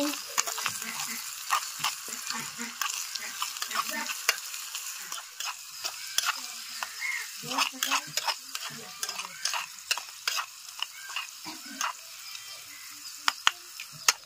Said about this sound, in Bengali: দিয়ে আমি একটু ভালো করে নাড়াচাড়া করে নিচ্ছি